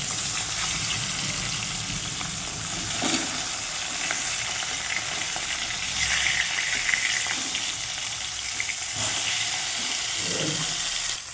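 Tilapia fish frying in oil in a kitchen pan sizzles and crackles steadily and fairly loud throughout, with occasional stirring and scraping sounds and no talking.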